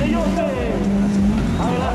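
A four-cylinder race car accelerates hard on a track, its engine note climbing in a loud, continuous roar close by, with excited commentary talking over it.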